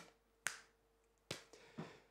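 A sharp finger snap cracks out close and clear in a quiet room, followed by a few softer clicks and taps.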